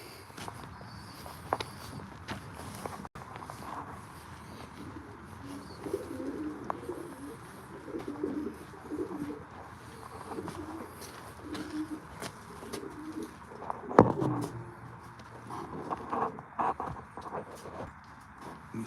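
Racing pigeons coo softly in a loft, their low repeated calls rolling on and off throughout, with occasional footsteps and small shuffles close by.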